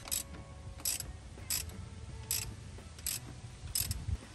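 A ratchet clicks in six short, evenly spaced bursts while turning a pulley bolt on the 4.7L engine of a 2007-2009 Toyota Tundra, with a low mechanical rumble underneath and no talking.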